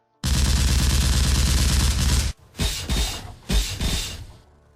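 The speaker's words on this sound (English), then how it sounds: "On my mark, and fire! Firing right away." Heavy gunfire in a toy battle scene, first a dense sustained rattle of rapid shots for about two seconds, then several separate loud blasts and crashes, close and very loud, with no speech.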